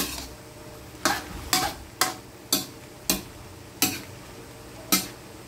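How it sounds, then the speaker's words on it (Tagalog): A spoon stirring bulanglang, a vegetable stew seasoned with bagoong, in a pot, giving eight evenly spaced sharp knocks against the pot rim over a low background hiss, close and without talking. "Tapos halo-haloin natin."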